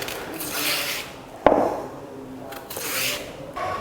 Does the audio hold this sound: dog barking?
no